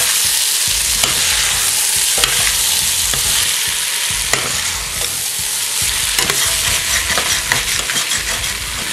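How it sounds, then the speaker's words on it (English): Venison goulash sizzles in a frying pan while a utensil stirs and scrapes the bottom again and again, sharp scraping strokes over a constant close frying hiss, with no talking. "Make sure you keep scraping all the bits off the bottom."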